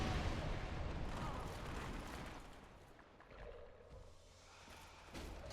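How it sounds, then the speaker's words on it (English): A deep rumbling explosion in Dark Souls booms loudly at the start, then rolls off into a fading low roar over several seconds. "Another explosion, exactly what I want."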